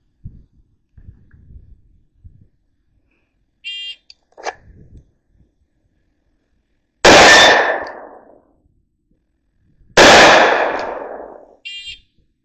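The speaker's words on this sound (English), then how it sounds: "It's 50 yards, 2 shots, center mass, 8 seconds, 3 separate times" Two loud, sharp 9mm pistol shots from a Springfield Armory Operator, fired seconds apart at an outdoor range during a 50-yard drill, each followed by a decaying echo, with faint handling noises before them and no talking.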